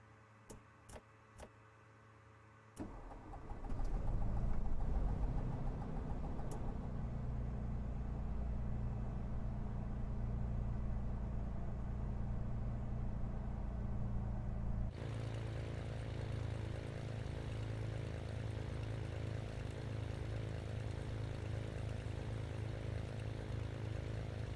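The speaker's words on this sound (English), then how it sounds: "Let's get those engines started." Cessna 172 engine in Microsoft Flight Simulator: a few clicks, then the starter whirs and the engine catches and settles into a loud, steady idle drone, shifting in tone partway through as if heard from another position.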